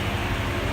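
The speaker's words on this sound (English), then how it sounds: "It's pretty hot today, so the fans are running the balls off. Got the AC running." Cooling fans and air conditioning run on a car with a muffler delete, a steady whooshing hum with a low rumbling undertone, constant and fairly loud throughout the short stretch, with no voices.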